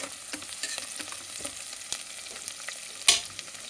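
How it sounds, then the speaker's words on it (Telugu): Tomato and onion paste frying in a pan makes a soft, continuous sizzle, broken by light scattered clicks of stirring and one sharper scrape near the end, with no voices. "టమాటాలు ఉల్లిపాయలు కూడా వేసి వేయించేసుకున్నానండి"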